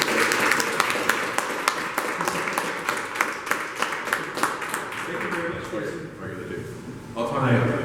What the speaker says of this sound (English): We're gonna clap for him.